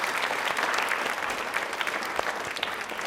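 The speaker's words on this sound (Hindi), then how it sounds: "तालियां एक बार जोरदार हो जाए प्रधानमंत्री जी के लिए" An audience applauds for the Prime Minister at a quiz event on the government's welfare schemes, with steady, dense clapping sustained throughout at a moderate distance and no talk over it.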